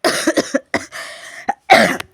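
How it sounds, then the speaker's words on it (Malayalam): Several harsh, close coughs from a lingering cough in quick succession, then a short pause and one more forceful cough. "അന്ന് തുടങ്ങിയ ചുമ ഇതുവരെ മാറിയിട്ടില്ല"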